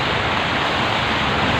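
Heavy rain pours steadily in Qatar, a dense, loud, unbroken hiss close by with no voices.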